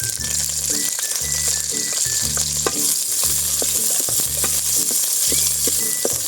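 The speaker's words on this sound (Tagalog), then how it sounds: "Nagisa na natin yung bawang at sibuyas." Garlic and onion sauté in a hot pan for pork and beans, a steady close sizzle of frying with rhythmic bursts of stirring as the spatula scrapes and tosses, no voices.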